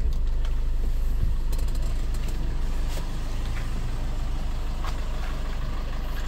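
A 2017 Maruti Breeza ZDI Plus diesel with a five-speed manual idles steadily just after starting, a close, even, low rumble with a faint rattle and no voices over it.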